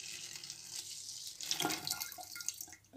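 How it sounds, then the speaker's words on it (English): Homemade liquid organic fertilizer for indoor plants pours into a water bottle, a close, splashy trickling stream with a brief heavier gush midway, heard alone. "So I'm gonna just transfer this in this water bottle."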